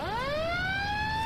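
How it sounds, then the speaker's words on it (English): An older fire engine's siren from the Farming Simulator 19 game, responding to a house fire call, winds up into a loud rising wail and holds a strong, steady tone. "Oh, that is one pretty sweet siren here on it."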